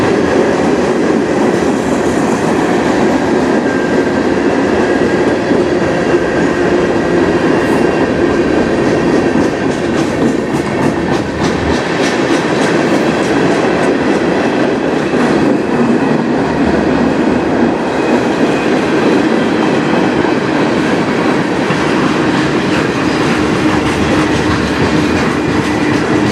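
A CN freight train rolls through Sarnia, Ontario at night, loud and close, with continuous wheel rumble and rhythmic clickety-clack over the rails, sustained for the whole stretch with no talk.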